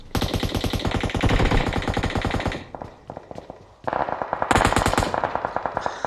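Rapid automatic rifle fire from an AKM in the video game PUBG Mobile, loud and close, in long rattling bursts with a brief lull before another burst.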